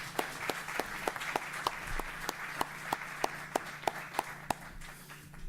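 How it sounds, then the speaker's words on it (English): Applause at a conference innovation stage thins out to a few people clapping, with one pair of hands close by striking a steady, evenly spaced beat over soft background clatter that fades toward the end. "please join me in giving a round of applause to these folks in here"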